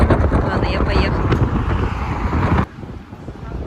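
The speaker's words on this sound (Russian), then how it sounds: "но ветрено" Wind buffets the microphone with a loud, rumbling roar that drops off abruptly near the end.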